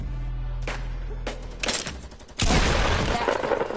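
Several bursts of gunfire crack out, including a rapid volley, in a loud outdoor scene; the shots are sharp and close, with heavy broadband noise toward the end.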